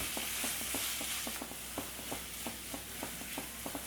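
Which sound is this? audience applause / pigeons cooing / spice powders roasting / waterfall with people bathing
spice powders roasting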